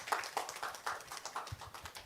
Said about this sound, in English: Another round of applause for our wonderful panelists.